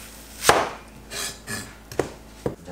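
A knife chops onion into strips on a cutting board for curry: a sharp chop, a softer slicing stretch, then two more crisp single chops, close and clear with no talking.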